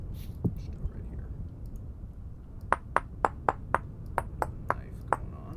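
Stone knife knapping in the video game Vintage Story, a rapid run of about ten sharp clicking taps at a regular pace, heard over a soft background murmur.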